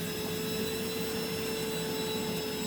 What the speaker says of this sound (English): while you're vacuuming because the Powerhead is so powerful